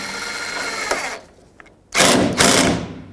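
A power tool tightens a bolt on a 2008-2010 Ford F-250 tailgate: a loud whirring burst, a pause with a faint click, then two more short, close whirs.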